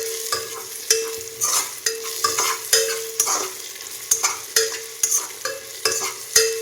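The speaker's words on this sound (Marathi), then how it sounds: "हे चक्री फूल आहे आणि हे तमालपत्र आहे आणि मिरी आणि लवंग आहे तर हेही तेलामध्ये थोडंसं भाजून घेणार आहे" Whole spices (star anise, bay leaf, black pepper and cloves) roasting in oil in a pan for a village-style country chicken biryani, with a soft sizzle and repeated sharp scrapes of a spoon stirring, close and without talk.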